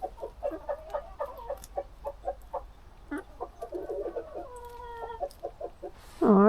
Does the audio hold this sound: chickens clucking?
yes